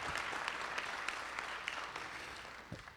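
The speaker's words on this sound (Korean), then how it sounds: "여기 있는 분들이라도 좀 일어나셔가지고 한번 박수 주십시오" Quiet, distant audience applause at a Korean-language conference event, a steady wash of scattered clapping from a small crowd holding for about three seconds.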